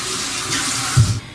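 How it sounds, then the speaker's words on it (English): Lukewarm tap water running steadily from a faucet into a sink to wet hands, a continuous close splashing stream that swells briefly near the end. "So I'm going to use lukewarm water again."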